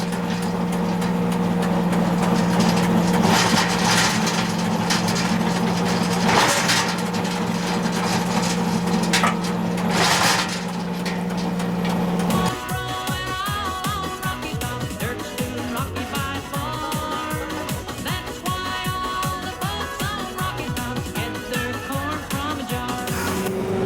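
A Kioti tractor with a tiller works rocky ground, a steady engine drone with a low hum, then grinding, clattering churn as the tines bite into the stony soil, continuous and close.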